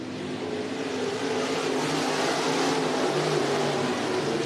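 Race cars circle Cottage Grove Speedway in Cottage Grove, Oregon, during the Freedom Cup, a dense, steady engine roar that stays loud and continuous throughout without any talk.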